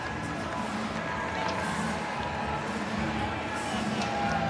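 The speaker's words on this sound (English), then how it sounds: "Everybody in the crowd absolutely loving it." A baseball stadium crowd cheers during a Pirates vs Brewers game, a steady, distant roar of many voices that holds evenly throughout without distinct peaks.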